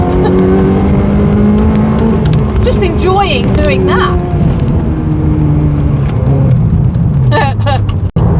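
A Ferrari 360 Spider engine revs loud and close, its sustained roar rising and falling under steady talk from the driver.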